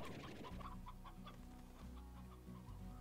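Chickens in the game Slime Rancher cluck repeatedly in short, faint bursts over steady game background music.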